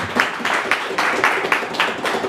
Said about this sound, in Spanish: Y aplauso para ella,